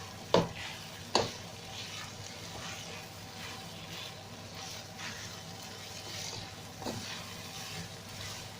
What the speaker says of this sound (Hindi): इसमें जो हमने वेजिटेबल फ्राई किया था वो ऐड किया। मिक्स करेंगे अच्छी तरह।